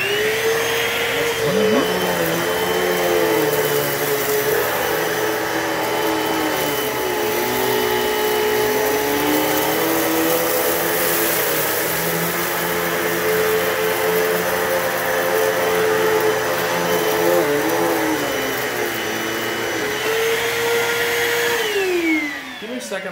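A Hoover Total Home Pet upright vacuum cleaner runs loud and close at a steady whine that shifts pitch as it moves across the floor, then powers down at the end.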